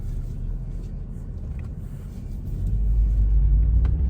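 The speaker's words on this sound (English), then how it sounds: "get a little sound of the exhaust here." A 2001 Mercedes E55 AMG exhaust drones low and steady while driving, heard through a cracked window, with the rumble growing deeper and louder toward the end over road noise.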